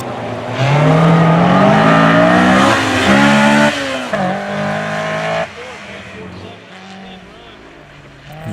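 A Honda S2000 engine revs hard and rises in pitch, easing off and surging again as it drives past on a rainy autocross course, loud and close.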